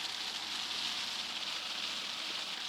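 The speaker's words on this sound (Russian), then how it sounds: "на улице дождь пошел" Rain mixed with sleet drums steadily on a fishing tent, a dense continuous hiss and patter that stays even and fairly soft throughout, with no voices.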